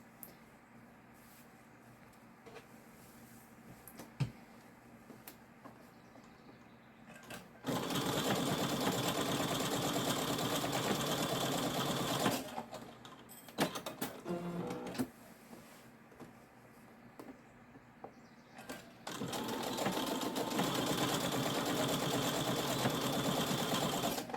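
A sewing machine stitches a quilted bag in two long steady runs, a dense mechanical whir that stops for a few seconds of quiet handling in between.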